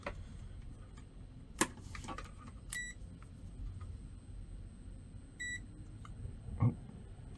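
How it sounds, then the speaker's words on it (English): A small electronic beep sounds during a Sega CD repair with a multimeter, a short high chirp over low background hum, with a few faint ticks and clicks around it. "Oh, there's a little beep."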